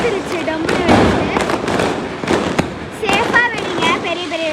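Diwali firecrackers and flower pot fireworks burst nearby with repeated sharp pops and crackles, while children's excited voices and shouts carry over them throughout.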